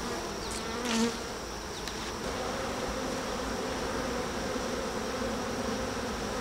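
Honeybees buzz steadily around an open hive, a dense, continuous drone close to the microphone, with a few louder passes as individual bees fly near.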